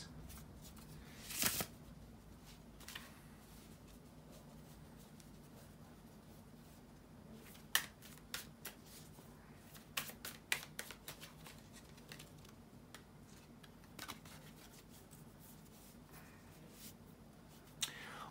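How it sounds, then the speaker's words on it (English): Tarot cards are shuffled quietly and repeatedly, with soft riffling and occasional sharp snaps and taps, close by in a quiet room. "bear with me a second, guys, to shuffle the tarot cards"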